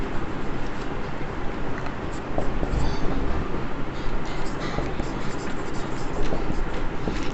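Chalk or pen writing on a board during a Class 12 accounts lesson, a steady scratchy scraping and tapping that runs throughout at moderate loudness with a broad, rough texture.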